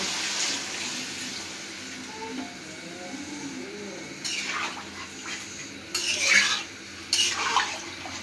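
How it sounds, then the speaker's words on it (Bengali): Water poured into a pot of browned dal and meat curry in a village kitchen, a gentle trickle at first, then several louder splashing gushes in short bursts. "এখন ঝোল দিয়ে দিব।"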